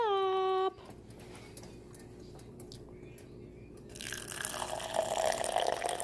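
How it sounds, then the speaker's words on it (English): Hot water from a kettle that was heating toward a whistle pours into a cup: a steady, close liquid stream after a brief high kettle whistle at the start, rising slightly as the cup fills. "I'm going to turn this off and pour this in my cup."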